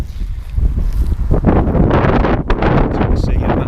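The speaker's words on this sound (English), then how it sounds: "So you can see a massive difference out here. Huge winds." Strong wind sweeps across an open field during an outdoor airsoft game, a loud, steady rush buffeting the microphone with gusty surges for the whole stretch.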